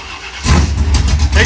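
An Oldsmobile Cutlass engine jumps from idle into a loud, rough burst of revving on two-step launch control, close up, with a voice shouting over it.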